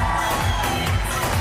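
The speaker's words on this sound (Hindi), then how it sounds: "ओली अहमद गोरगोया के लिए जोरदार तालियां" Loud cheering crowd at a recognition ceremony, a dense wash of clapping and shouting that stays steady throughout the brief moment.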